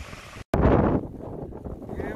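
Strong wind on a beach in the Netherlands roars against the microphone in loud, rumbling gusts, cutting out for a split second before a heavier blast that then eases into a steadier buffeting.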